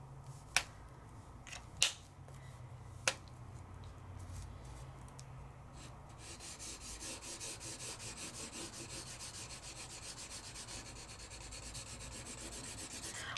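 A chisel-tip marker colouring on vellum, a soft continuous rubbing scratch with rhythmic strokes that grows steadier in the second half, preceded by a few sharp clicks.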